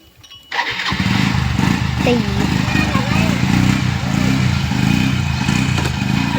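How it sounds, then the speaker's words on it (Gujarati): A motorcycle engine starts up and keeps running with a steady, loud, rumbling putter close by, alongside faint background noise. "જો બાઈક ચાલુ કર્યું"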